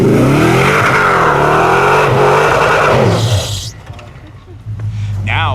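A Toyota Tundra SUV strains up a steep off-road climb, its engine droning loud and steady for several seconds before easing off sharply, with a voice talking over it.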